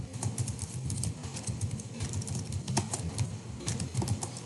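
Soft, steady clicking of keys on a computer keyboard while entering text into an Excel spreadsheet, continuous light typing heard close up with no voices.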